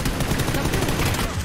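Rapid, dense gunfire crackles continuously in a short, loud burst, like automatic weapons in the video game PUBG.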